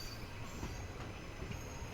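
A slow-moving passenger train, Machilipatnam–Visakhapatnam service 17219, gives a low steady rumble of wagons rolling on rails, fairly quiet and continuous with no voices.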